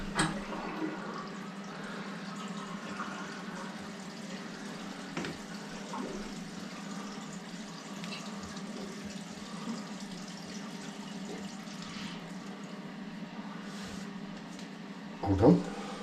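Water running into a bathroom sink during a repair, a steady continuous splashing flow close by with occasional clinks and a louder burst near the end.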